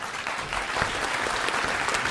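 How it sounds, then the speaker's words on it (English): A live studio audience applauds after a program, with dense, loud, continuous clapping filling the short stretch and no voices heard. "Give yourselves a big round of applause."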